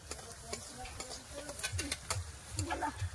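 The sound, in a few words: stirring dal and chorchori in a pot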